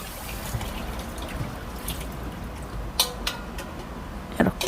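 Tap water pours and splashes over parboiled braised beef short ribs being rinsed in a kitchen, a steady close stream with a few sharper clatters and splashes as the meat is handled, no voices.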